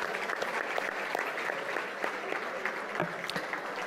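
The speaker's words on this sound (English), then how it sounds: "Round of applause for all these folks." An audience at a gala applauds, dense rapid clapping from many hands continuing steadily from start to finish at moderate volume.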